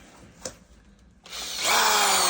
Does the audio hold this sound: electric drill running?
yes